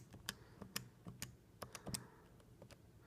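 TI-80 calculator keys are pressed to type in a program name, about a dozen quick, irregular plastic clicks in close succession, quiet and with no talking.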